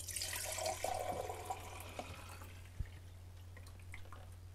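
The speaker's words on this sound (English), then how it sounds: "So I've got my developer here, the empty jug, and I'm going to pour it in there." Film developer being poured from a jug into a bottle, a soft continuous trickle and splash of liquid that fades after a few seconds, with a low steady hum underneath.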